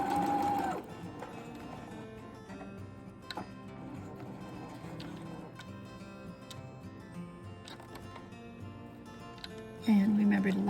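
Sewing machine running steadily as it stitches along the hem seam of a scarf, a continuous mechanical whir with fine rapid ticking, a brief louder burst at the start and end, fairly close.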